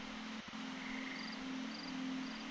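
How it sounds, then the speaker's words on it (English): Soft, steady cricket chirping in the video game Antichamber, under a low background hum, with faint repeating high trills. "Crickets coming from"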